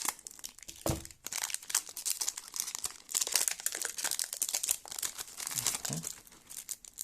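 Crinkly plastic and card packaging of a trading card box gets cut open with a blade, giving dense, bright crackling and tearing rustles that run continuously at close range with a few sharper snips.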